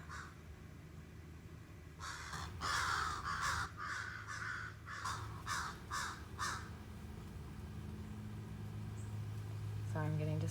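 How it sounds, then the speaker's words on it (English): Several crows caw in a run of loud, harsh calls over a few seconds, fairly near, with a low background hum and traffic-like rumble. "sorry, I'm getting distracted with the crows."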